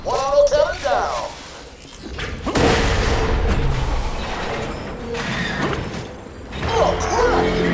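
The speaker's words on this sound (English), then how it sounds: "Oh, I hear an exploding." Explosions and booming impacts from a Borderlands 2 firefight against auto cannons, loud and sustained, with mechanical clatter and someone talking over the action.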